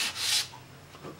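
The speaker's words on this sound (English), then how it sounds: "run it on the sanding block to just even up the sides together" A short, rough scraping stroke of reed cane across a sanding block, followed by a second, fainter rub.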